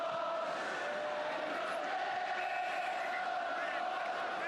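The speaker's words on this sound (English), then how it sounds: "At last the game and the crowd comes alive." A stadium crowd at a 1973 Chelsea vs Manchester United football match sends up a broad, sustained roar with rising cheers and shouts, loud and continuous throughout.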